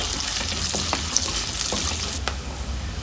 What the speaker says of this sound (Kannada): ಲವಂಗ ಏಲಕ್ಕಿ ಚಕ್ಕೆ ಸ್ವಲ್ಪ ಜೀರಿಗೆನ ಸೇರಿಸ್ಕೊಳ್ಳೋಣ ಕಟ್ ಮಾಡಿದ ಈರುಳ್ಳಿ ಸೇರಿಸ್ಕೊಳ್ಳೋಣ ಚಂದ ಫ್ರೈ ಮಾಡ್ಕೊಳ್ಬೇಕು